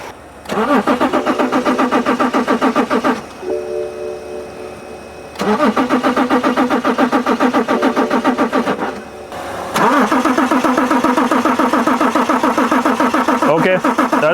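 BMW X5 engine cranking with a crank-no-start fault, loud rapid starter chugging in three long bursts separated by short pauses, close up with no talking.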